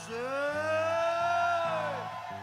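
A festival rock concert audience at Noceda Rock shouting and whooping together in one sustained loud yell that rises and then fades, with a voice ringing out above the crowd.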